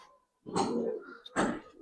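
A pair of large pigeons coos nearby in two low, throaty bursts separated by a short pause, with no voices alongside.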